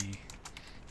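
Computer keyboard typing, a handful of quick, light key clicks spaced irregularly, fairly faint and close, alone after a brief tonal sound at the start.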